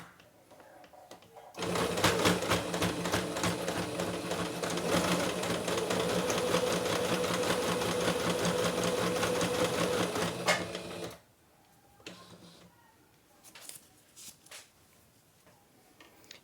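A sewing machine stitches a decorative border onto a cotton dish towel, running in one steady, rapid whirring burst for about ten seconds, then stopping, followed by quiet handling of the fabric.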